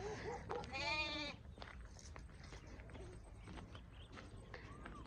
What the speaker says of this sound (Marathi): मेंढ्या गेल्या म्हणून ओरडतय कोकर